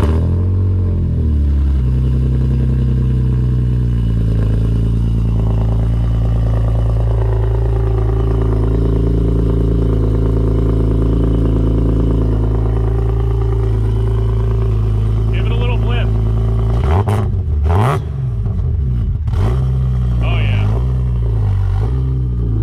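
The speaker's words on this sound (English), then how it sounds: "the new V1 Status Group muffler is in. So let's hear how it sounds" A BMW M3 with a Status Gruppe V1 muffler rumbles loud and close at a steady idle, then revs sharply in a few quick blips near the end.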